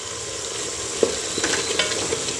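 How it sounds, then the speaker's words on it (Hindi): Chicken frying in a pan with salt and red chili for a Pakistani chicken dish, giving a steady close sizzle with a few soft stirring scrapes and knocks over the top. "चिकन तकरीबन मेरा भून गया, थोड़ा सा रह गया"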